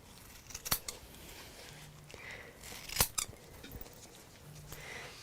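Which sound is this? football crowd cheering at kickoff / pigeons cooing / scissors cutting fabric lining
scissors cutting fabric lining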